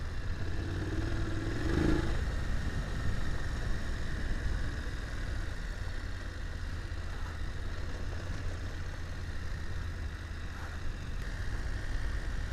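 A motorcycle engine runs steadily at low, even revs while the bike rides easy-going trail terrain on a hill, a continuous rumble with light clatter and no talking.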